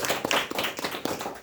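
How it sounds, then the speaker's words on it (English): An audience at an International Youth Day 2024 event claps for a panelist called onto the stage, a dense burst of many overlapping hand claps, close and lively, lasting only a moment. "Give him a round of applause."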